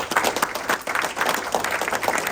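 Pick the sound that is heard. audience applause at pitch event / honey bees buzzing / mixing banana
audience applause at pitch event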